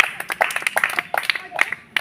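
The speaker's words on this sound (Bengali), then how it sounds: "সবাই একটু হাততালি একসাথে" A group of people clapping their hands together at a ball-rolling challenge game, quick uneven claps close by, lively and fairly loud across the whole moment.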